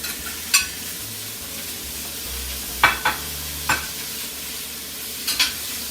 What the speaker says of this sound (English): We're going to go ahead and add our sausage to the pan.